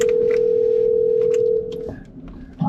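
A steady telephone dial tone drones loudly for about a second and a half, then breaks off with a click and faint line noise as an office call connects to a local lender.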